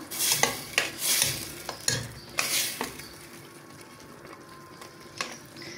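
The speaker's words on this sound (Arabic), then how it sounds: "هنايا هاي كي بدات تقلى الكرشه" Beef tripe for an Algerian stuffed tripe dish begins frying in a pan, with clattering utensil scrapes and knocks over a faint, steady sizzle.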